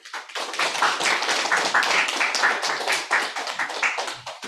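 Audience applause welcoming a history professor to the podium at a Korean social science methodology seminar. Dense, steady clapping from many people fills the room for several seconds before fading.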